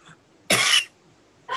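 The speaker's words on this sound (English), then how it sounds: "I'm coughing." Two sharp, close coughs from a person, one full burst followed by the start of another after a short pause in a quiet room.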